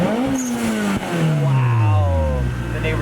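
Turbocharged Lotus Elise engine revved at full throttle, one loud close rev that swells then falls away in a long descending tone.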